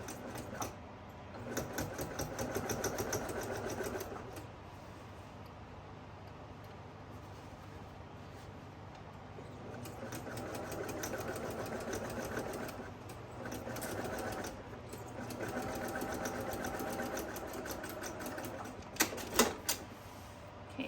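A sewing machine stitches a seam on a reversible flat-bottom tote bag, running in several moderate bursts of rapid mechanical clatter separated by short pauses.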